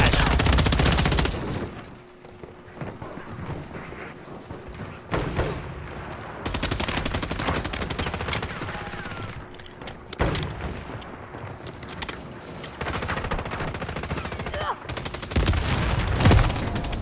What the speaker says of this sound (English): somebody sniped me on top of that building